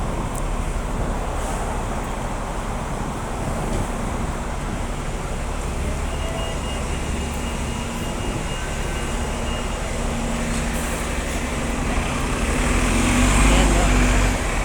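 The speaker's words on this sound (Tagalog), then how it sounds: "Ayan, sasakyan." Road traffic passes during a morning walk, a continuous broadband rush of vehicle noise with a heavier vehicle swelling closer near the end, and voices faintly present.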